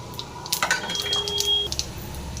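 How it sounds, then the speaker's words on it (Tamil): Mustard seeds splutter in hot oil in a pan while tempering a drumstick-leaf stir-fry, giving quick, close pops and crackles for a couple of seconds. "இப்போது எண்ணெய் காய்ச்சி கடுகலப்பு போட்டுடலாம்."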